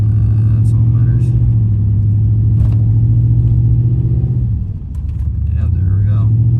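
A GMC 2500HD pickup's engine drones low and steady as it labors up a snowy hill in a snowstorm, the rumble dipping briefly near the end before picking back up, with someone talking over it.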